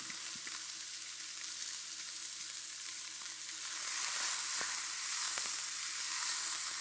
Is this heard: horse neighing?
no